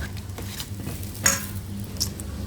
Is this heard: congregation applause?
no